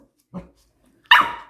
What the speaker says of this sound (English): You know how to bark now?